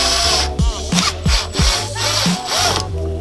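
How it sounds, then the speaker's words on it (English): Power drill boring pilot holes for self-tapping screws while fitting a front lip onto a Honda EG hatchback, a loud whining motor that rises and falls in short bursts with intermittent bites and pauses, close by. "We're drilling pilot holes because we try to put a self-tapper right through"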